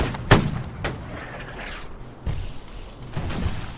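Musket volleys crack out in the Holdfast battle game, with one sharp nearby shot followed by scattered fainter reports and a rolling echoing rumble, no talk heard.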